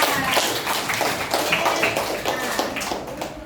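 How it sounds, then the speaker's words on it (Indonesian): Classroom clapping for a pupil, a short burst of brisk, close hand claps from a small group, steady and fairly loud for a few seconds. "Tepuk tangan untuk Aska."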